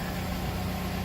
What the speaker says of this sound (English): And the engine's running, so I must have did it right.